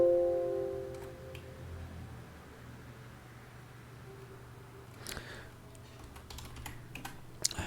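Short bursts of keystrokes on a computer keyboard as a command is entered, faint and scattered at first, then a quicker cluster of clicks near the end over a quiet room hum.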